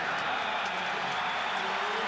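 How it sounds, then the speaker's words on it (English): A baseball stadium crowd at the 1995 MLB All-Star Game at The Ballpark in Arlington cheers and applauds a local player, a dense, sustained roar of voices and clapping with no pauses. "And the crowd again saluting their local boy"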